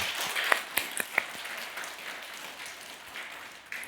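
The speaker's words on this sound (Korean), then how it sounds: "더 뜨겁게 박수하도록 하겠습니다" A Sunday congregation at New York Bethel Church breaks into warm applause, a sustained wash of clapping with a few louder individual claps early on, gradually thinning and easing toward the end.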